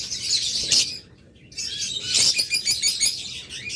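Pet lovebirds in a bird shop chirping close by, bursts of sharp tweets and trills with a brief lull near the start, then busy overlapping chirps continuing to the end.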